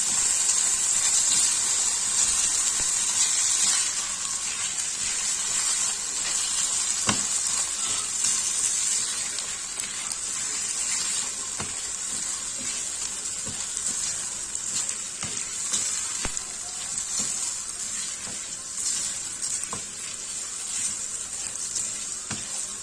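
Vermicelli being toasted in a pan for Turkish rice pilaf, a soft, even sizzle and hiss lasting throughout, with occasional faint stirring taps and no talking.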